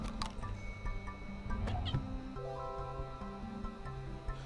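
Video game cat from A Little to the Left meowing over looping game music, a couple of short meows near the start and one in the middle, fairly close and clear.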